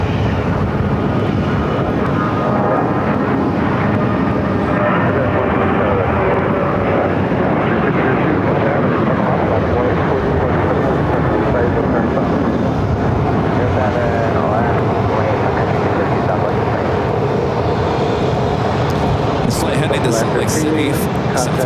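American Airlines Boeing 737-700 departing Phoenix Sky Harbor, a steady broad jet engine roar that holds loud throughout, with wind buffeting the microphone and a voice talking over it at times.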